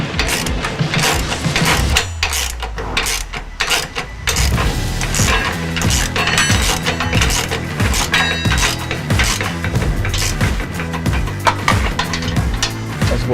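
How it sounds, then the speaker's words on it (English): A 14mm open-end wrench and a 14mm socket tightening bolts on a replacement S&B 60-gallon fuel tank for a 2017-21 Ford Powerstroke 6.7L crew cab: dense, continuous rapid ratcheting clicks with metallic clanks, loud and close. "using an open end 14mm wrench, as well as a 14mm socket, we're gonna get this tightened"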